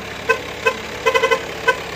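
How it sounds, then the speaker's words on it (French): Car horn honking in quick short toots, five or six bursts in an uneven rhythm, fairly loud and close, with nothing else heard. "Son klaxon dont il est fier."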